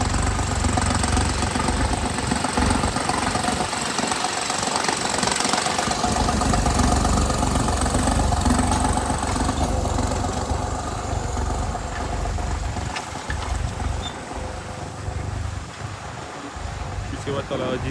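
A New Holland NH 3630 tractor fitted with a new silencer idles with a steady low rumble and knocking throb, loud and close, while someone talks over it at times.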